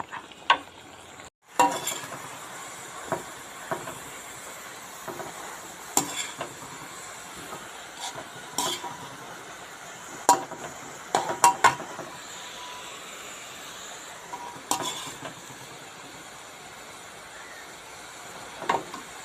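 Boiled bamboo shoots being dry-roasted in a pan, giving scattered scrapes and clinks of a utensil against the pan over a faint background hiss, with no talk.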